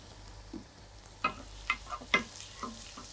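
Quiet sizzling of carrots frying in hot oil, with a few light scraping stirs and clicks of a utensil in the pan.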